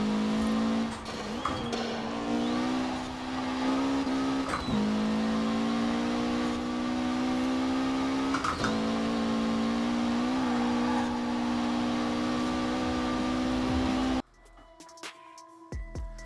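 Mitsubishi Evo VI in Forza Horizon 4, built and tuned for high speed, races hard with a loud, steady engine drone at high revs, brief shifts and dips through fast corners, then cuts abruptly to quieter game sounds near the end.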